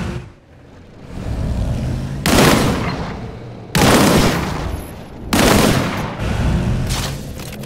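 Gunfire from the video game Disintegration aimed at a barrel during a training mode, loud sustained bursts of shooting in three or four heavy volleys separated by brief gaps.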